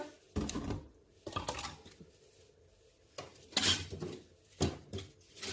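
Whisking egg yolks and sugar in a bowl for a raspberry and white chocolate bavarois, with several separate bursts of clattering metal-on-bowl strokes between short pauses, close and fairly loud.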